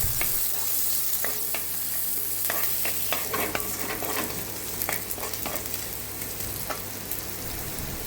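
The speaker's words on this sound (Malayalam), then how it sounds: "ഞാനൊരു ചെറിയ സവാള അരിഞ്ഞ് വെച്ചിട്ടുണ്ട്, അതും കൂടി നമുക്കിട്ട് കൊടുത്ത് നന്നായിട്ടൊന്ന് വഴറ്റിയെടുക്കാം" Chopped onion sizzles steadily in a pan for pumpkin leaf thoran, a continuous frying hiss with scattered spatula scrapes and taps, close and moderately loud, with no voices.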